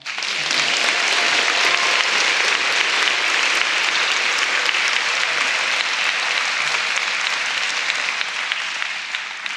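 An audience applauds at an evening event with Gabby Giffords, dense sustained clapping that stays loud and even for about ten seconds.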